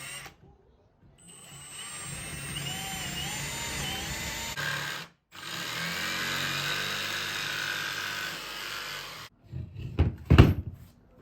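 A cordless drill whirs in several sustained runs of rising and falling pitch as it drives screws into a flower arrangement base, separated by brief pauses and ending with a few louder clatters.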